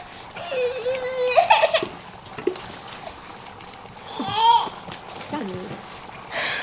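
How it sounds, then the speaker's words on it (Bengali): A baby cries in short, wavering wails in a home kitchen, with a couple of separate bursts spread across several seconds and quieter background clatter between them. "আমার বাচ্চা আবার কান্না করতেছে"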